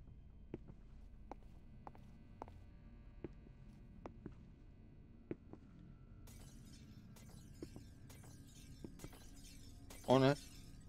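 Glass shattering in a horror video game set in an orphanage, a single loud bright crash near the end after a stretch of quiet ambience with scattered faint footsteps-like knocks.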